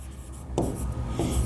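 Chalk or marker scratches across a board during an accountancy lesson on bank reconciliation. Two short, close bursts of scratchy strokes are heard, with no talking.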